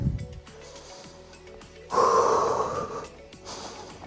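Deep breathing in and out during an exercise session, a couple of audible breaths with one louder, longer exhale in the middle, close and fairly clear against a quiet background.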